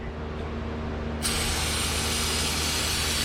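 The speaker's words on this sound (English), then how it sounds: "we're gonna go ahead and spray off that oil filter" Brake cleaner spraying onto the oil filter of a Dodge Ram 1500 during an oil change: a steady aerosol hiss that starts abruptly and continues loud and close over a low background hum, with no talking.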